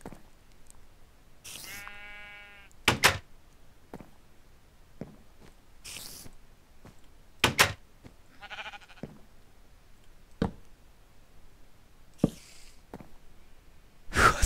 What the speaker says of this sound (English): What's a sheep doing in the tree?